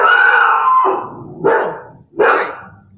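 A dog barks loudly nearby in three bursts: a long drawn-out bark fading into two sharper, shorter barks.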